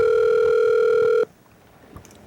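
A telephone line tone plays as a steady, loud sustained beep for just over a second, then cuts off abruptly into quiet line hiss with a faint click, just before an automated voicemail system answers the call.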